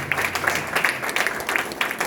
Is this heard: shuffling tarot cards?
no